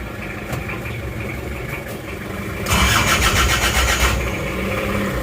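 An Isuzu Panther diesel engine with low power, after a nozzle service and a detached nozzle hose, is cranked and catches into a rough, loud running rumble close to the microphone.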